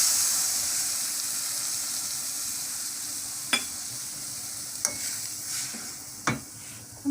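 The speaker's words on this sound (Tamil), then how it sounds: "இப்போ இந்த முட்டையை உடச்சி ஊற்றிடுங்க." Egg goes into a pan of browned onions frying in oil. A soft steady sizzle runs under a few sharp clicks and scrapes of stirring, alone and close.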